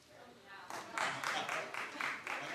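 A studio audience at The Wendy Williams Show breaks into scattered, moderately loud clapping that swells into a few rhythmic bursts of applause.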